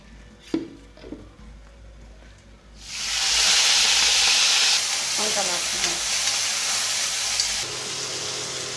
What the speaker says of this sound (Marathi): या मिरच्याला आपण थोडंसं तेल टाकून परतून घेणार आहोत तेलामध्ये